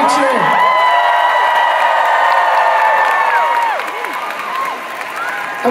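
Concert crowd of fans in Toronto cheering loudly for a band member, a dense sustained roar of shouts and whoops that eases slightly near the end.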